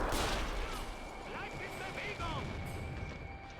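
Gunfire in an Army Men winter field battle: a dense, continuous rattle of shots and blasts with no clear gaps, steady and loud, with indistinct voices mixed in.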